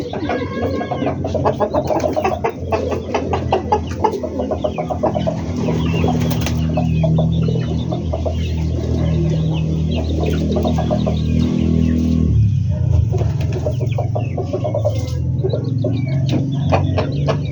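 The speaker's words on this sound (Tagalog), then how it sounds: "Manok." Chickens clucking steadily alongside pigeon-like bird calls, close and continuous, with faint wing flapping and no talk.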